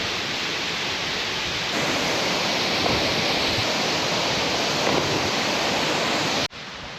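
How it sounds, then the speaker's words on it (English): Steady, loud rush of water from the Young River Falls, a broad continuous roar that holds for about six seconds before cutting off near the end, with no talking over it. "Well, that was the waterfall."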